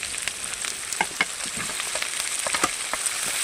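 Tomato and onion frying in a pan, a steady close sizzle with occasional light stirring clicks, no voices.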